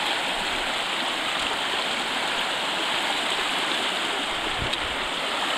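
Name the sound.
mountain brook flowing at a hiking trail crossing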